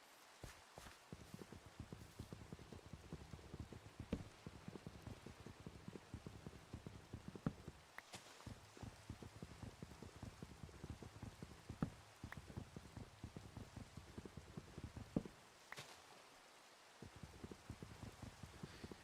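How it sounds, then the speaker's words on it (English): Raindrops patter through leaves in the video game FEZ, a steady, dense sprinkle of soft ticks held at an even level throughout, with no talk over it. "Oh, look at that. The raindrops through the leaves."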